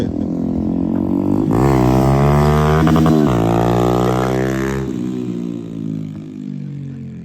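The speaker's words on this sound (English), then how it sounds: "He trying to pop a wheel on this motherfucker." A motorcycle engine revs hard and loud during a wheelie attempt, its pitch climbing, holding high for several seconds, then dropping back to a steady idle-like drone.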